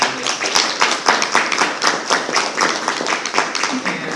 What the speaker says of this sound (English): So I'd like to just give a round of applause for 3 excellent candidates.